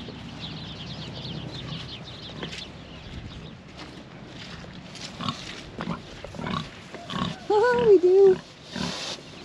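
Pigs and piglets in a farm shelter, low grunts and rustling building to a few louder squeals near the end, with a person speaking briefly over them.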